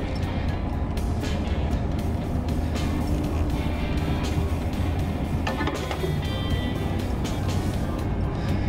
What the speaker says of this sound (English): first drive in the rebuilt truck